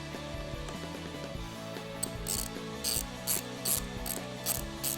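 A hand ratchet clicks steadily as it tightens the bolt holding the cowl piece on a 2021-2022 Ford Bronco, close and crisp, with quick repeated pawl clicks in short bursts over a faint background hum.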